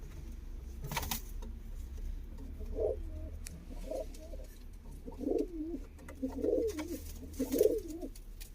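Pigeons coo in a pigeon loft, soft, repeated throaty bursts, several calls spread a second or so apart, over a steady low background hum and occasional clicks.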